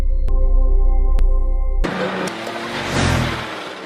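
A vehicle speeds past, arriving as a sudden loud rush of engine and road noise that swells and then fades, after a steady electronic hum with a few clicks.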